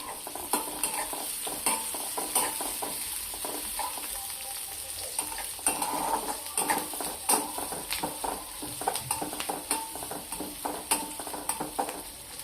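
Green chili fries with onion in a pan, a continuous sizzle broken by frequent rhythmic spatula taps and scrapes against the metal, close and clear, with no voices.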